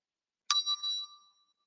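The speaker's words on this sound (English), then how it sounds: "I also like the sound of our bell." A single bright bell strike with a clear ringing tone that decays over about a second, alone in silence.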